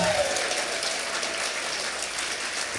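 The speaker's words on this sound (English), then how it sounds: "You gotta get a round of applause for that one." Audience at a storytelling festival in Nebraska claps for a storyteller, a steady broadband patter of applause holding at even loudness throughout, with a faint tone sliding briefly at the start.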